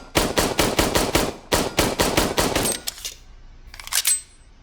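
An M9 pistol emptied in a rapid magazine dump from a kneeling position, two fast strings of loud, close shots, then a brief burst of echoing sound.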